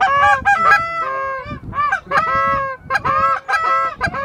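Several geese honk loudly and repeatedly during a goose hunt, overlapping calls in irregular bursts, close by with no talking.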